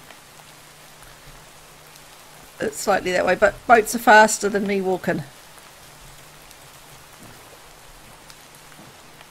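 Steady soft rain in the game FTB Legend of the Eyes patters throughout at a low level, with a person talking briefly over it in the middle.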